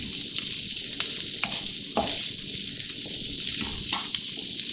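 A medium-sized onion softening in hot oil in a pan, giving a steady close hiss with a few soft scraping stirs through it.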